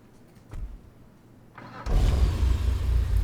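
A Vapid FMJ supercar in a video game starts up, with a brief mechanical click, a rising starter whir, and then the engine catching into a loud, steady idle rumble.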